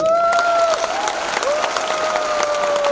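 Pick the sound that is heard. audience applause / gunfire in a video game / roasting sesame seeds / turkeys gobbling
audience applause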